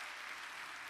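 Steady, dense applause from a congregation at a prayer meeting, continuous and fairly loud for the whole moment with no voices standing out.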